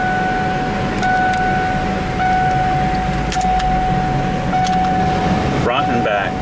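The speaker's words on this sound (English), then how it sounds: "Now we're going to take and start the vehicle. We're going to put it on max AC." A car engine idles with the air conditioning running on max, giving a steady, close mechanical hum with faint tonal whines and a few short clicks and beeps near the end.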